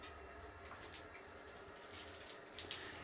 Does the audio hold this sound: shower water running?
yes